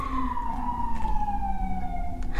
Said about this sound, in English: not the sirens trying to interrupt my video.